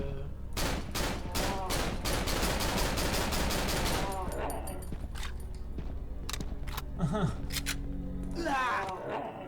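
Gunfire in the horror video game Cry of Fear, with an M16 and sniper rifle mentioned: a dense, loud volley of rapid shots for about four seconds, then scattered single shots among growls and movement noises, under constant talk.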